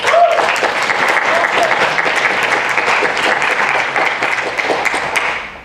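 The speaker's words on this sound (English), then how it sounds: "So if we could give him a round of applause." A college audience gives a sustained round of applause, loud dense clapping that holds steady and tapers off at the end, with no speech over it.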